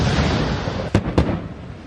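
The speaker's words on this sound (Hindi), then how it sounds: "ये कुछ धमाके करके दिखा रहा है।" Military exercise explosions, with a cannon among the equipment, ring out as two sharp, loud booms about a quarter second apart over a steady, rumbling background roar.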